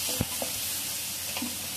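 Roasted cumin and garam masala sizzling in hot oil over a low flame, a soft continuous fry hiss with a few scraping clicks of a spoon stirring the pan.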